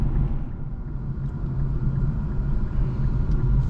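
A 2023 Infiniti Q50 Red Sport 400 AWD being driven, heard from inside the cabin as a steady low engine and road rumble with no distinct revs or shift breaks standing out.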